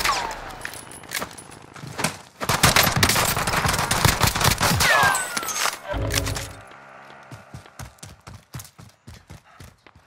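Gunfire in the Call of Duty video game: sustained rapid automatic bursts, loud and close, that give way to a series of evenly spaced single shots near the end.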